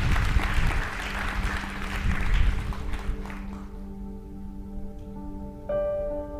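Church congregation applauding after a call to clap for the Lord, a dense burst of hand claps that fades over a few seconds, leaving a sustained organ or keyboard chord ringing alone.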